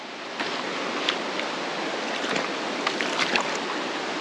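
Mountain river rapids near Synevyr rush over stones in a steady, full roar heard close by. Small splashes and bubbling spikes rise here and there, and no voices are heard.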